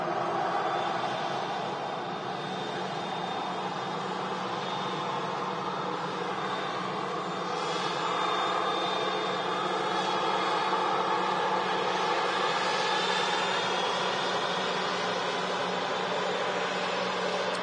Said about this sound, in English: Oh wait, it's Ryanair, flight 4777 with 737-800 series coming in from Shannon in the Republic of Ireland.